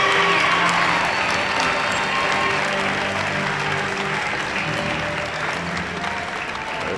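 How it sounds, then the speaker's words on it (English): A gym crowd applauds the volleyball teams after a five-set KSAC championship match between Clarion Area and Clarion-Limestone, dense clapping that tapers slightly with a faint voice underneath. "I think they deserve a round of applause."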